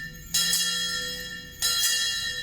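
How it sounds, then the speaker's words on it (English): Church bells ring for a Constitution Day celebration in Georgetown, a steady wash of bright metallic tones with two fresh strikes about a second apart that swell over a sustained hum, no voices. "The bells ringing"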